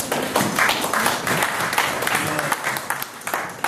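Church congregation applauding and cheering loudly to acclaim the Lord, a dense, sustained wash of clapping with voices mixed in, lasting a few seconds.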